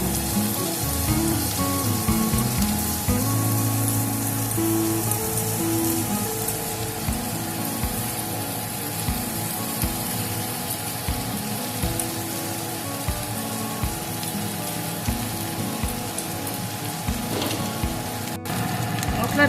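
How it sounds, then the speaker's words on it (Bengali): Kashmiri chilli powder and spice masala fry in a pan with a continuous crackling sizzle like rain on a surface, steady and moderately loud for the whole stretch, with occasional scrapes. "মশলাটা আমি খুব ভালো করে কষিয়ে নিয়েছি।"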